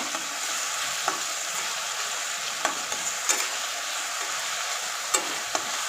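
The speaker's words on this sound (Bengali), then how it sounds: "এবার আমরা এর মধ্যে আদা রসুনের পেস্টটা দিয়ে দেবো দিয়ে এটাকে ভালো করে কষিয়ে নেবো" Ginger-garlic paste cooks with tomato in a hot pan for a bottle gourd and prawn curry: a steady, even sizzle runs throughout, broken by a few sharp, sparse scrapes of a spatula, with no talking.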